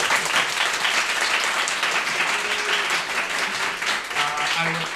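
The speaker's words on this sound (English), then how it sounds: "give yourself a round of applause" An audience at an event claps in a dense, loud burst of applause that carries on steadily, with voices emerging over it toward the end.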